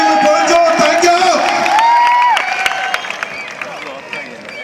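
A large crowd at a stage show cheers and applauds for Shareef Bhai, loud and close with whoops and clapping mixed into a dense roar that gradually settles, while a voice also carries through.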